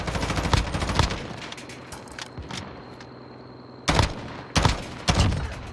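Rapid bursts of gunfire in Warzone, the Call of Duty battle royale, with a scatter of sharp shots early and three loud, close volleys near the end over a steady background hum.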